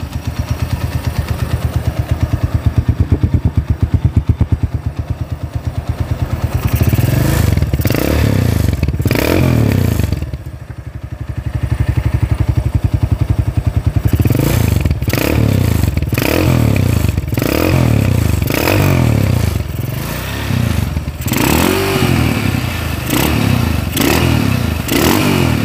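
A rebuilt Honda GL motorcycle engine with new clutch and magneto runs steadily up close, a smooth continuous idle with light mechanical clatter and a few brief revs, heard alone.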